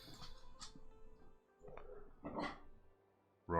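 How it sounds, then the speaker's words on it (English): A dog yips and barks a few times in short bursts at moderate distance, with quiet gaps between and one louder bark at the end. "don't you be barking"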